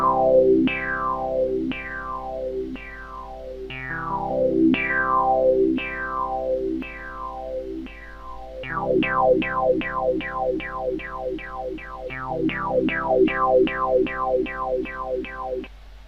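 Pulsar digital synthesizer playing held notes with LFOs retriggered by the first note and then free running, giving repeated falling sweeps that speed up into rapid pulses, loud and alone with a constant low drone.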